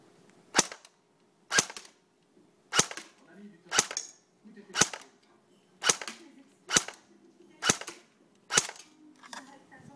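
G36 airsoft rifle firing single shots: ten sharp, evenly spaced cracks about a second apart, each close and loud, with soft movement noise between them.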